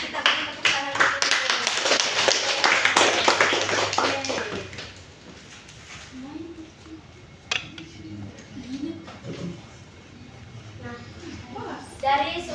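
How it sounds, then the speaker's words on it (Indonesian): A class of students claps together in a dense burst for about five seconds during a teaching session, then the applause fades out, leaving scattered voices and a few isolated taps. "kita beri tepuk tangan dulu"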